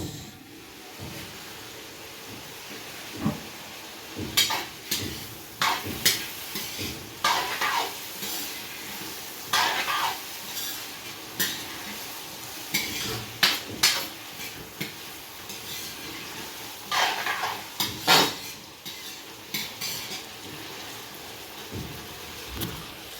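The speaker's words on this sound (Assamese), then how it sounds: "স্কচ ভাজিছোঁ" Squash frying in oil in a pan while being stirred, with a steady low sizzle under repeated sharp scraping and clattering strokes of the utensil against the pan, close and with no talk.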